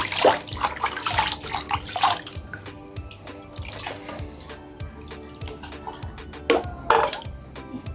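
Tap water being poured into a container to make a solution, splashing and trickling close by, heaviest early on, fading to drips and light clinks, with renewed splashes near the end.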